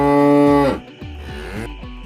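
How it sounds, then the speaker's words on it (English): A cow lows close by, one long, full moo followed by several shorter, lower grunting calls. "This is cow."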